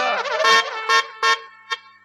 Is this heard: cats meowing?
no